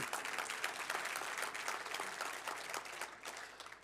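A church congregation claps together to acclaim the Lord, a dense, steady applause that fills the room evenly for a few seconds and tapers slightly at the end.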